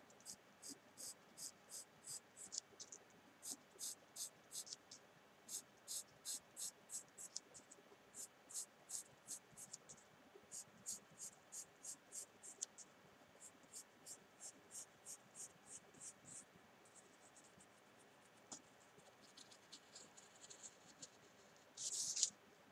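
A pencil sketches a curve on paper while drafting a square-to-round transition piece. Quick, soft scratching strokes come in regular rhythmic bursts, close and faint, ending in a brief rustle.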